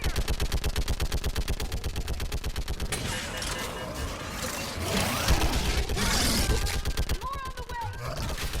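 Rapid machine-gun fire rattles in a steady, fast stream during a video game battle on Thessia. It breaks off midway under shouted voices and heavy combat noise, then resumes to the end.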